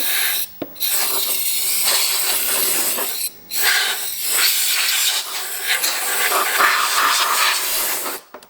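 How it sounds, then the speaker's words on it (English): Compressed air from an air compressor nozzle blasting dust out of a K&N air filter for a Kawasaki Ninja 1000 / Z1000, a loud close continuous hiss with brief interruptions as the trigger is released. "use the air compressor to just blow that out"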